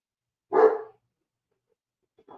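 A single loud bark from a two-year-old dog, coming from the background as it tries to get out, one short burst followed by silence.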